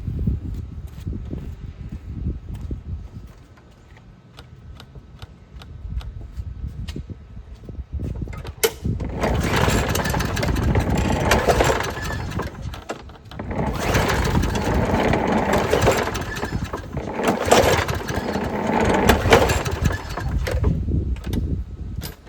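An old lawn mower engine being cranked to start, with quiet idle sound at first, then several loud, rough, sustained bursts of mechanical chugging close by.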